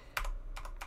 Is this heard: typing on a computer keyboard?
yes